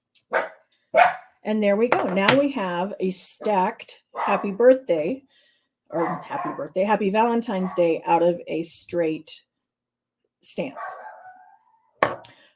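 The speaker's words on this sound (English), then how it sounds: "I apologize for the dogs." Dogs barking in the background, a few short distant barks coming mostly in the pauses while a person talks steadily in the foreground.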